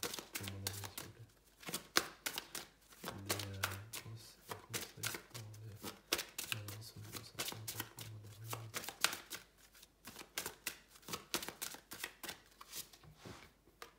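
Tarot cards being shuffled at close range, a long run of quick riffling and slapping card bursts with brief pauses, fairly quiet and without talk.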